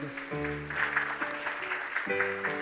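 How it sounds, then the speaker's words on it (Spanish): A church congregation applauds in a soft, fairly distant burst of clapping, with a voice or sung tones sounding over it throughout. "Dale un aplauso fuerte al Rey de Reyes y Señor de Señores."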